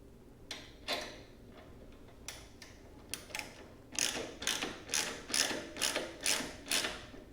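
Ratchet clicking as a nut is undone on a Harley-Davidson Touring bike Tour Pak mount, a few sparse clicks at first, then a steady run of rapid, loud rhythmic ratcheting strokes close by.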